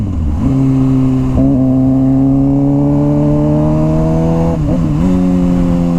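A Suzuki GSX-R motorcycle engine that bogs down at high RPM holds a loud, steady high-rev drone, rising slowly in pitch, then dipping briefly twice as it falters near the close.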